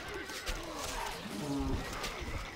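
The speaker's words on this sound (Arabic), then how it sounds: "الحصان سريع." A horse neighs in the Stronghold: Crusader strategy game, its whinny close and loud over a dense wash of in-game noise for about two and a half seconds.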